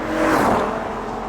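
A manual BMW M5 Touring estate weighing about 1900 kilos, driven at full throttle, gives a short, close burst of engine roar that swells and then eases slightly.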